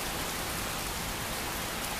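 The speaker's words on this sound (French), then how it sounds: "Le mode qui améliore la pluie" Torrential rain falls in Skyrim, enhanced by a mod, a constant loud hiss of drops pattering on surfaces, even throughout and with no speech.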